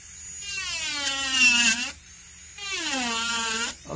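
A high-speed rotary carving tool whines at a full 46,000 RPM, its pitch sweeping down as it is throttled back to half speed, then rising and falling again under load.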